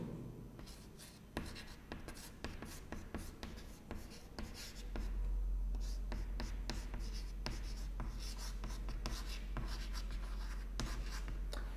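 Marker or chalk scratches across a board during a history lecture in a series of short strokes and taps, with a low hum rising partway through and faint bits of speech.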